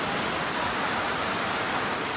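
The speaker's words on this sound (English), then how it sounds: "The raindrops were so big." Heavy rain with big raindrops pounding a moving vehicle during a thunderstorm in the Philippines, heard as a dense, steady, loud wash of hiss with no pauses and no voices.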